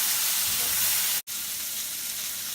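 Squash finishing in a pan gives off a steady, continuous sizzle and hiss at moderate level, broken by one abrupt instant of silence midway before resuming unchanged.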